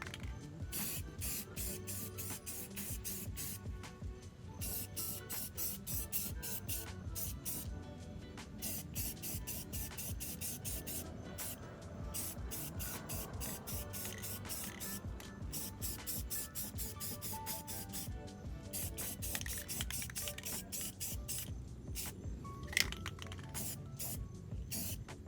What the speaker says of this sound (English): This is a 2K primer end paint, so everything is nice and filled in and smooth.